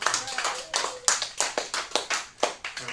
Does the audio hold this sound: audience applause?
yes